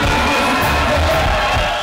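A packed festival tent crowd roars with sustained cheering and shouting, a dense, loud wall of voices with clapping mixed in, steady throughout.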